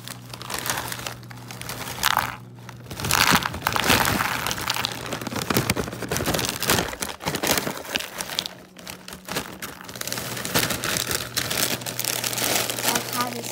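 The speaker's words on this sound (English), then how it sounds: "Okay, now we got the cereal opened. Let's put it into our bowl." Hazelnut Cocoa Pebbles cereal is poured into a bowl, giving a dense, rustling crinkle of small flakes and bag handling in bursts, close up, with a voice speaking briefly over it.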